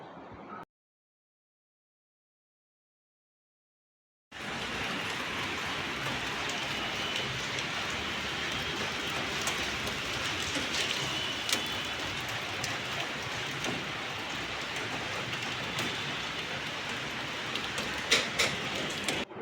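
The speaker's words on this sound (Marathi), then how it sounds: "बघितलं ना किती जोरात पाऊस येते." Heavy rain pours steadily in Mira Road, Mumbai, a dense, continuous roar of drops close by, beginning abruptly after a brief silent gap and running on without letup.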